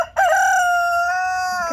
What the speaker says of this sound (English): So these chickens might be a little soggy.